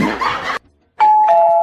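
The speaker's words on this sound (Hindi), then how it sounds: "बार बार घंटी बजा रहा है" A doorbell chimes in a house, heard once, then broken off by a short silence, then a sustained bright ding tone that rings on with a second strike near the end. The chimes are loud and close, with no talking.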